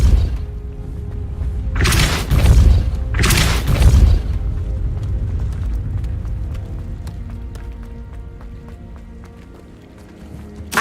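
Hogwarts Legacy video game with the Depulso spell cast: two loud booming blasts with bright crackle, each about a second long, followed by a quieter stretch of game ambience and scattered small clicks.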